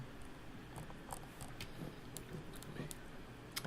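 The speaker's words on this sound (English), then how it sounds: "Some deck shuffling there." Faint papery riffling and soft clicks of a deck of cards being shuffled at a card game, quick and irregular beneath a low background hiss.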